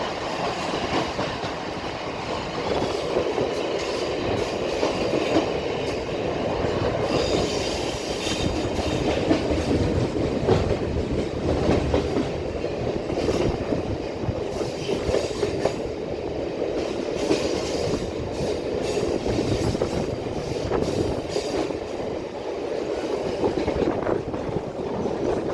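A rail vehicle rolls along the track during track work between Egmore and Beach stations, a steady, fairly loud rumble with clickety-clack wheel beats and faint squeals throughout, with no talk.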